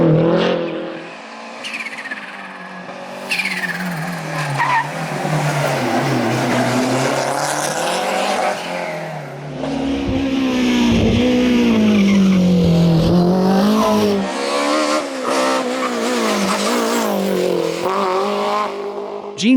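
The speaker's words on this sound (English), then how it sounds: "Jean-Pierre Gatti and Bertrand Chagat try to stay close to the leader" Historic rally cars race and skid at Rallye Antibes Côte d'Azur, engines revving loudly up and down with tire squeals and skids, close and continuous throughout without speech.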